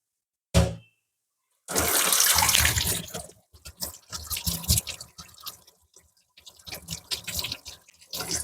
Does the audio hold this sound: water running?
yes